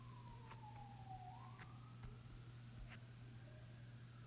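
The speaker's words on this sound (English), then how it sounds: "Excuse the siren in the background." Faint wailing emergency siren sweeping down and back up in pitch, distant and low behind a steady hum, with no one talking.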